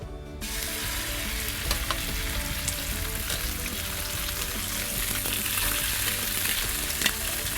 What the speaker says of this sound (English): we're just gonna do a quick sear on these Wahoo